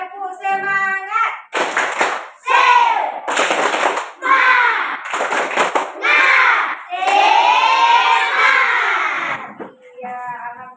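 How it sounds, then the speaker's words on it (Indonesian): Classroom group clapping chant: young voices shout rhythmic phrases in loud bursts, broken by short gaps, with claps mixed into the chanting. "Kita tepuk semangat."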